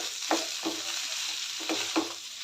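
Mashed potatoes stirred in a frying pan for potato bhaji, with a soft continuous sizzle and four distinct scraping strokes of the spoon spaced through the stretch, close and moderately quiet.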